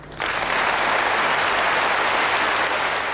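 An audience in a 1987 Italian music show breaks into sudden, dense applause for the late singer, sustained and even throughout, with no voices over it.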